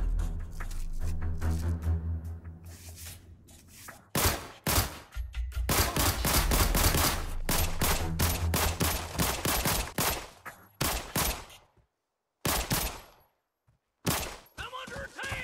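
Rapid bursts of gunfire from the mobile shooter game Arena Breakout, loud and close, with dense automatic volleys giving way to scattered single shots and short pauses.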